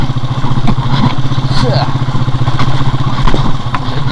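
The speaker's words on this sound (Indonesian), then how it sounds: "Bawa motornya kayak gini, teknik-teknik bawa motor di jalanan yang kayak gini tuh harus seperti ini guys" Motorcycle engine running steadily while ridden over a rough, rutted rural road near an old mining site, with a rhythmic clattering pulse throughout and a person talking over it.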